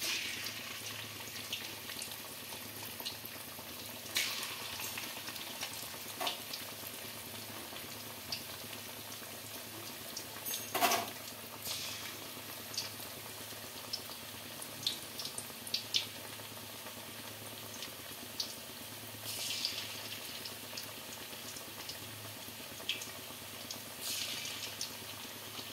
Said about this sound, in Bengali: বাকি যে চিকেনগুলো ছিল সেগুলোকে আমরা একই পদ্ধতিতে আমরা ভেজে নেব